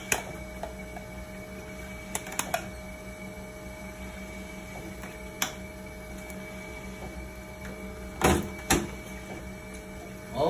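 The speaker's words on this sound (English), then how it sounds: "we'll just wait for this pump to stop, for a prime button to stop" A dialysis machine hums steadily while its pump runs through priming, with soft periodic ticks and a few sharper clicks and taps close by.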